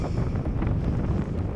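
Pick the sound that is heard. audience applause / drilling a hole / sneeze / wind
wind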